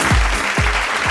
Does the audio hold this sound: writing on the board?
no